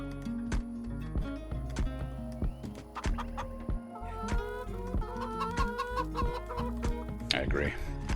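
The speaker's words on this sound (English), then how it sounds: "How you doing, chickens?" Chickens in the Farming Simulator 25 video game cluck repeatedly and steadily over a busy bed of game sounds and music, close and continuous for several seconds.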